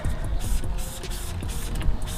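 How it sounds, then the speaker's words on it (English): Cleaner is sprayed onto a car wheel in short, close hissing bursts, repeated several times in a quick uneven rhythm. "And give it a really good spray there, and then you just wait a few seconds, rinse that off."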